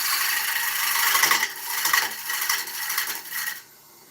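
Ash fruit bowl being tidied up on a wood lathe: a steady, harsh scraping and rubbing of the tool against spinning wood, loud and close, pulsing slightly, then stopping abruptly near the end.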